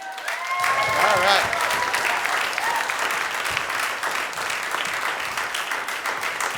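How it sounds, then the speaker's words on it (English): A family cheering and clapping for loved ones at a community event, steady applause with whoops and shouts lasting throughout, fairly close, with a voice speaking briefly over it. "That's our family cheering over there"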